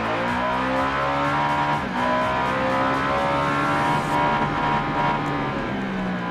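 A Ducati Diavel motorcycle engine roars and revs on a race track in the game Ride 3, its loud throttle rising and falling continuously with gear changes.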